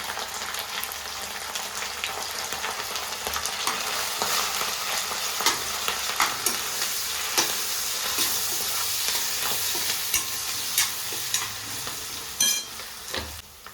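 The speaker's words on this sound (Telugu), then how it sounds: "ఉల్లిపాయ, కరివేపాకు, కొంచెం పుదీనా, ఉల్లిపాయ, పచ్చిమిర్చి అన్నీ వేగినవి." Onion, curry leaves, mint and green chilli frying together in a pan for mutton fry, a steady dense sizzle with occasional stirring clicks and scrapes, close and continuous without speech.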